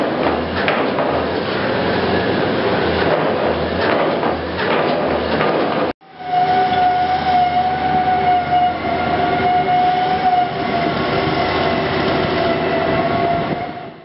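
Secant pile wall construction for a combined sewer overflow control project, with track-mounted drill rigs and concrete pumps, giving a loud continuous machinery roar and rumble with a steady whining tone after a brief cut, no talk.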